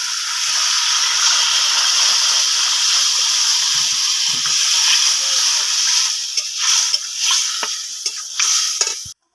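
Water poured into a pan of fried jackfruit cooked in well-browned spices, giving a loud steady hiss and sizzle that later breaks into bubbling and scraping stirs before cutting off abruptly.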